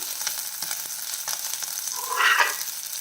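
Curry leaves frying over low flame in a pan for a chow chow dish, giving a steady close sizzle that swells into a brighter crackling burst near the end.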